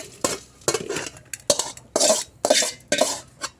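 Roasted urad dal tipped into a pan, heard as a series of about seven close, rattling scrapes and grainy pours with short pauses between them.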